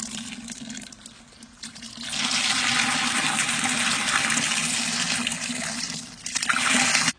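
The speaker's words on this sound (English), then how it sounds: "you just add water" Water gushes in a steady, broad rush for several seconds after a quieter start, poured onto dry clay powder for making pottery clay, with no talking.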